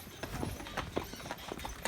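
Hooves clip-clopping at a steady walk over a noisy outdoor background, with faint scattered sounds around them.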